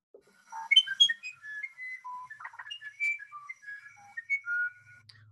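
A recorded bird song plays as a quick series of clear, high whistled notes and chirps in varied pitches, close and fairly loud, with no talk.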